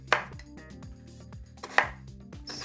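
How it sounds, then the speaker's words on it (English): Knife chopping and dicing sweet potatoes on a cutting board, with a few sharp knocks standing out over a steady run of softer cuts close by. "So all I'm doing is chopping up like this, dicing up."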